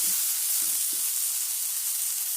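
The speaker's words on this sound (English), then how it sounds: "I'm going to keep stirring and keep stirring for, let's say, 1 more minute. Let everything get nice and soft." Vegetables sizzle in a pan, a steady close hiss of frying with a few soft scraping stirs at the start, no talking.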